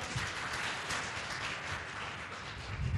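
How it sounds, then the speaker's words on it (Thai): Audience at a health food motivational seminar clapping in a soft, steady patter, fairly distant and moderate in level throughout, with no talk over it. "ขอเสียงปรบมือให้กับคนเหนือด้วยนะครับ"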